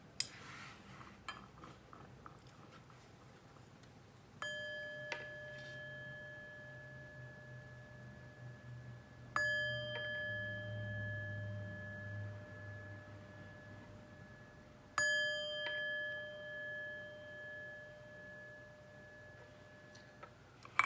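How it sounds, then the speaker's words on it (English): Three clear metallic chime strikes rung before a tarot reading, each ringing out and slowly decaying, spaced about five seconds apart, with faint clinks before the first. "But first, let's chime."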